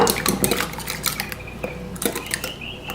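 A utensil clatters and scrapes rapidly against a bowl as eggs are whisked for a cheesecake filling, with busy clinking strokes that pause briefly and then resume, close and fairly loud.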